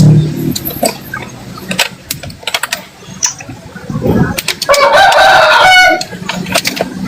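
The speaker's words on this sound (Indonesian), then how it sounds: "Oh, ayam siapa itu?" A rooster crows loudly and close by, its drawn-out call rising over the background, with scattered clucks and people talking around it.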